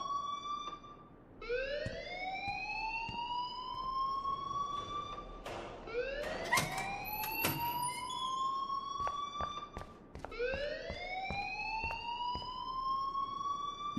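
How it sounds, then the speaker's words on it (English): An alarm in the video game Life Is Strange wails in a repeated rising siren sweep, loud and close, cycling several times with sharp clanks and thumps between sweeps. "please turn off that alarm since that's your job"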